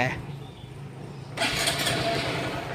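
A Honda MSX SF motorcycle engine catches partway through and settles into a close, steady running sound, with someone talking around it.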